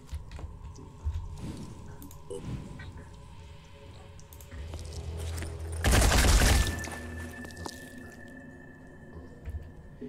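Gauss weapons firing in the tactical video game Phoenix Point: scattered thuds and impacts build to a loud burst of gunfire midway, then fade under a low game hum.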